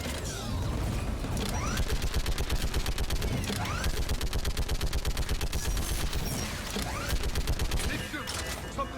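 Sustained rapid-fire turret gunfire in the sci-fi shooter Mass Effect 3, a dense, loud mechanical rattle of shots that runs nearly unbroken throughout, with faint voices underneath.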